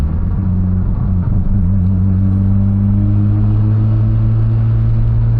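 A Mazda RX-7 rotary engine cruising while driving, running lean with an occasional hiccup; a loud, steady low drone and rumble with a slight rise in pitch, heard from inside the car.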